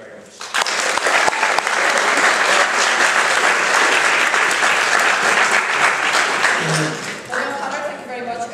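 Sustained audience applause in a hall at a junior debating grand final, steady dense clapping from a crowd lasting several seconds before tapering, with a voice speaking as it fades.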